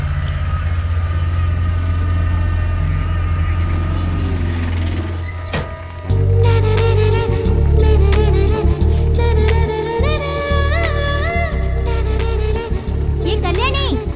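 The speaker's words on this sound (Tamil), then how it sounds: "பின்னாடி வண்டி வருது." Steady low engine rumble of a vehicle, with a second vehicle approaching from behind, plus a busier mix of tones and voices that starts partway through and masks the motor noise.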